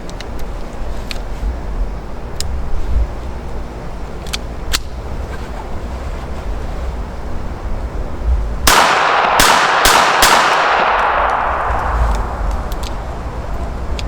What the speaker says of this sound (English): Now let's shoot it like it's a belly gun, one-handed.